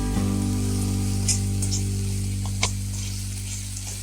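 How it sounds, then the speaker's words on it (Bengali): Spice masala with Kashmiri chilli sizzling steadily in oil while being stirred, under a constant low hum, with a couple of faint scraping stirs. "তেলটা মশলা থেকে ছাড়া পর্যন্ত আমি এই মশলাটাকে নাড়তে থাকি"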